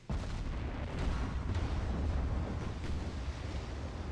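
Heavy naval gunfire from a warship in Ultimate Admiral: Dreadnoughts, a dense sustained rumbling boom with continuous low-end roar and wind-like noise, with no distinct separate shots.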